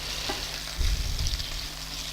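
Bombay potatoes sizzling in a hot pan, a steady frying hiss with a short burst of scraping and clatter as they are stirred around, close and fairly loud.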